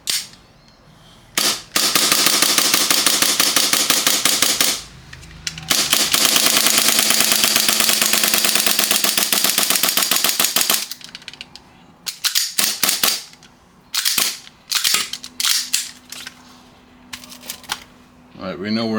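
A Novritsch airsoft gun dry fired with its magazine running empty, giving a long loud rattling burst of rapid mechanical clicks, then sparser single clicks and short bursts nearby, with brief talk between.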